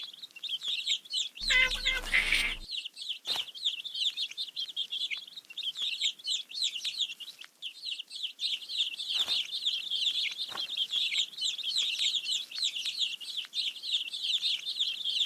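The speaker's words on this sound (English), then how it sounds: "Let's feed the hungry baby birds with some seeds." Cartoon baby birds in a children's counting game chirp and tweet in busy, bright, overlapping calls for the whole stretch, with a brief burst of another noise near the start.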